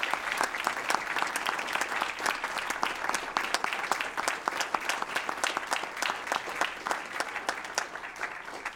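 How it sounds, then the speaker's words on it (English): A city council chamber audience gives sustained applause during a regular meeting, steady and full for the whole stretch, with no talking over it. "So, I think Adrian deserves a great round of applause."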